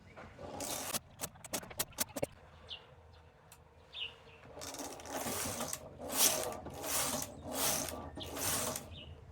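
A knitting machine carriage working rows on a baby sweater, with a few sharp mechanical clicks followed by longer rattling sweeps of the carriage sliding back and forth, close and moderately loud, no talking.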